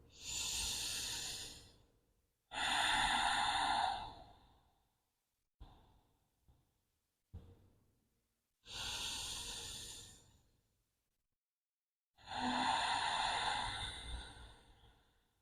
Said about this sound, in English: Turning on your ujjayi breathing, it's that long, victorious breath.